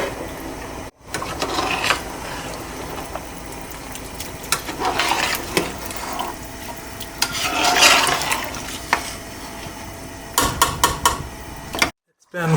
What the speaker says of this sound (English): It's been 4 minutes since we put in the rice, and it's been coming to a boil on medium-high heat.